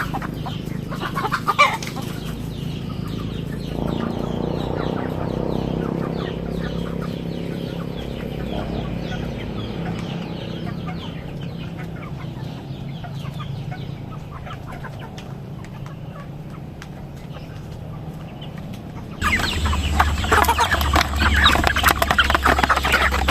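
Free-range native chickens cluck and crow close by while pecking at feed mixed with coconut pulp, a steady flock chatter with scattered calls and a louder burst of activity near the end.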